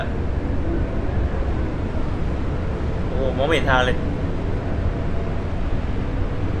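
Storm wind roars as a car is driven through a foggy tempest in the game Endless Suburbia, a steady, broad rushing drone throughout, with someone briefly speaking over it midway.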